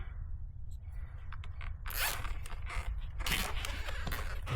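Joined zip ties ratcheting as they are cinched tight around an eMoto bike tire to close the bead, a close, brief zipping burst followed by rustling and scraping handling.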